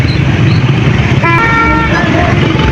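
Car horns honking amid dense traffic during a late-night Independence Day rally with flag-decorated vehicles in Pakistan, several overlapping toots over a steady road rumble and crowd noise, loud and close.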